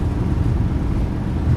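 Boeing 737 engines spooling on the takeoff roll in a flight simulator, with a steady loud low-pitched roar and rumble throughout and no voices over it.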